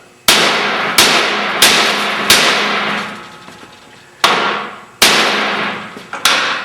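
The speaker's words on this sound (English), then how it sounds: "Here's your hammer. You're gonna hammer that on." A hammer drives a metal fitting onto a wire snare cable in six sharp, loud ringing strikes, coming in uneven bursts with short pauses between them.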